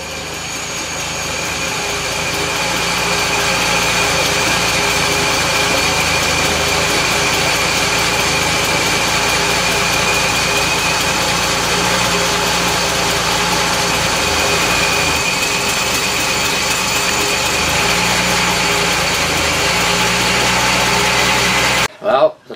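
A Triumph 2500 MK I car engine idles steadily while warming up, a constant mid-pitched running drone that holds even throughout before cutting off abruptly at the end.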